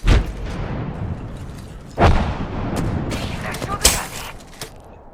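A frag grenade launches and explodes in a video game match, with sharp booming blasts near the start and around two seconds in, followed by scattered gunfire cracks and thumps, all fairly close.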